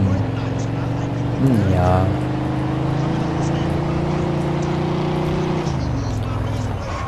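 A car in the video game Mafia II drives on with a steady engine drone that briefly rises in pitch as it revs, then holds and winds down, while someone talks over it.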